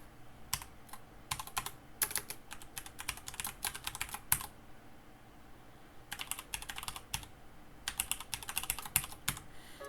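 Fast keyboard typing as code is entered during a programming lecture, with quick clustered keystrokes arriving in bursts and short pauses between them. The typing is close, fairly quiet and alone, with no talk over it.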